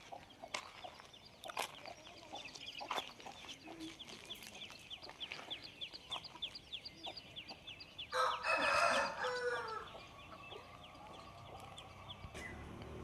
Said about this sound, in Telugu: చూడండి పుంజులు, వీటి నుంచి పుంజులు వరుసగా చూపిస్తాను